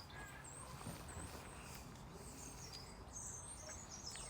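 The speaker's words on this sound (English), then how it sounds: "if it's a pretty song or a peep peep peep peep sort of song, it's a blackbird" Faint birdsong in the distance: thin, high chirps and short phrases over a steady outdoor background hiss.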